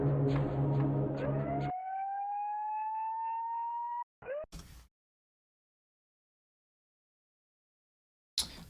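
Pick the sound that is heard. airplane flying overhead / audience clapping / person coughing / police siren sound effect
police siren sound effect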